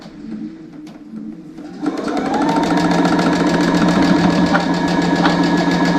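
Sewing machine stitching quilt pieces for a Christmas tree quilt, starting up after a quiet moment and then running in a steady, fast, close whirring drone to the end.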